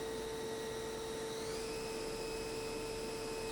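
A 2004 Nakamura-Tome WT-150 twin-spindle CNC lathe main spindle running up in speed, a steady whine with tonal hums that shift upward partway through, heard fairly faint and alone.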